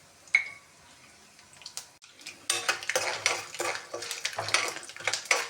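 Cashews being fried in a pan for curry leaf rice, starting with a quiet pause and a metal clink, then turning into a busy crackling sizzle with repeated scraping strokes of a spoon stirring.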